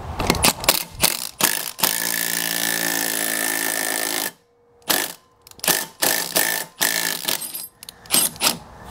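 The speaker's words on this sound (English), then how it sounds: "now what I'm going to do is tighten this up with my impact" An impact wrench tightens on a seized pulley of a Ferris zero-turn mower spindle, firing in repeated short loud bursts with a long sustained run in the middle and brief gaps between hits.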